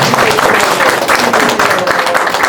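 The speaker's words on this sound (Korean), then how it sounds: "이럴 땐 박수 한번 주시면 됩니다." An audience claps in response to a speaker at a Catholic public rally about alleged election fraud, with dense, loud and steady applause from a crowd close by, lasting a few seconds and with no speech over it.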